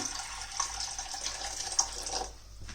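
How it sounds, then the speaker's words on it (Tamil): Water poured into a pot of three tomatoes while cooking, a steady close splashing and trickling stream that runs for over two seconds, then tapers off near the end. "இப்போ இதில் கொஞ்சமாக தண்ணி சேர்த்துக்கோங்க"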